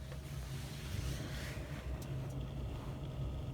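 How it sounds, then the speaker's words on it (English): An HVAC blower runs with a steady, dense whooshing roar, constant and unbroken throughout, with no other distinct sounds. "Blower's still running."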